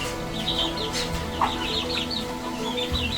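Several chickens cluck and chirp together nearby, short overlapping calls in a busy coop atmosphere with a low background murmur.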